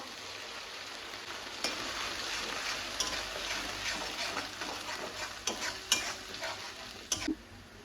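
Bay leaf, dried red chili and cumin seeds sizzle in hot oil with a constant close frying hiss, and a few sharp clinks and stirring scrapes break through near the end.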